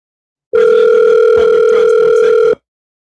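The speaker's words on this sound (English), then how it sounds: "Mr. Newman, answer your phone when I call, you know." A telephone ringback tone sounds once during a call to a politician, a loud steady two-second electronic tone, close and alone, starting and stopping abruptly.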